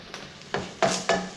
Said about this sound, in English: Bacon's frying off their lovely ways.